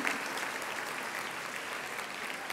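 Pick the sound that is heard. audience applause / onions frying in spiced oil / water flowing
audience applause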